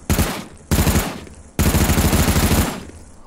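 Fully automatic gunfire from a video game erupts in three loud sustained bursts of rapid shots, the last burst longest, with brief gaps between them.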